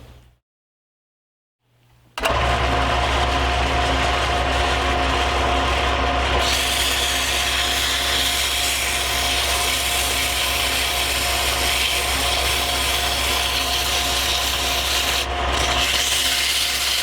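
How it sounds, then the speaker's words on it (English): A wooden drawknife handle is rubbed with coarse sandpaper, silence first, then a loud, continuous, even scratching rasp of sanding strokes for a long stretch. "get in with a coarse sandpaper to start taking it down"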